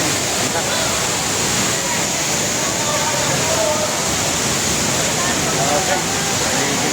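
Ditumabo Mother Falls in San Luis, Aurora Province pours in a steady, dense roar of falling water, loud and unbroken throughout.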